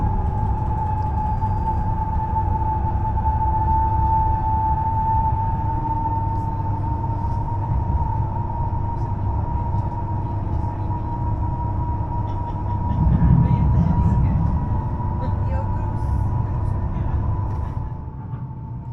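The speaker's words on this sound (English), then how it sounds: "it's definitely clear that this train has some technical issues." A Chinese-built CRRC passenger train with technical problems runs steadily near Usti nad Labem, giving a loud continuous rumble with a sustained droning whine and a brief louder surge partway through; no one speaks.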